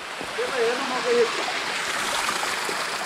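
Water from a mountain ridge tumbles over rocks in a steady, loud rush, with a faint voice briefly audible beneath the flow.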